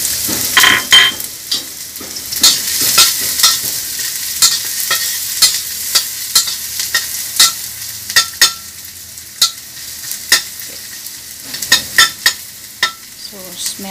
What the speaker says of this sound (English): Then fry with the garlic and onion.